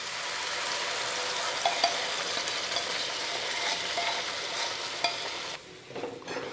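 A ground halwa mixture fries in a pan under a dense, continuous sizzle while a spoon stirs and scrapes it, with a few sharper clicks and a quieter final second; close and loud, with no talking.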